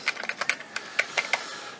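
Razer Nostromo gaming keypad buttons tapped at close range, around ten sharp clicks in an uneven rhythm that thins out toward the end.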